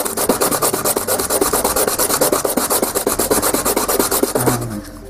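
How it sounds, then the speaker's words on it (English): Steady hand sanding of a case surface, a rapid back-and-forth rasping scrape repeating close by for several seconds, then easing off near the end. "keep an eye on exactly how much I'm sanding"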